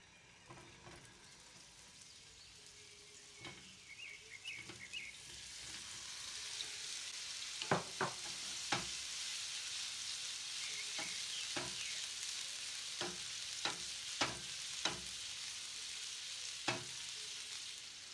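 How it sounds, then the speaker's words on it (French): Meatballs fry in oil in a hot pan over high heat, giving a continuous loud sizzle that swells partway through, broken by sharp clicks and scrapes of stirring and turning, with no voices. "faites frire les boulettes hachées à feu vif"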